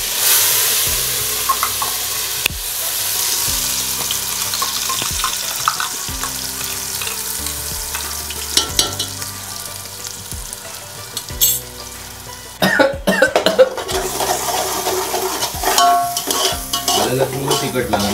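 Chakli dough fries in hot oil during Diwali snack preparation at home, a steady sizzle and bubbling joined by clinks of a metal utensil and pan, growing louder and busier toward the end.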